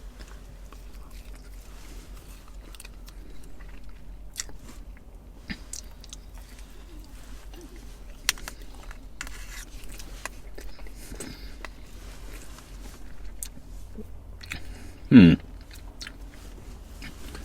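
Quiet, steady chewing and crunching of a homemade MRE during a taste test, close up, with faint mouth sounds going on for a long stretch and one brief louder knock near the end.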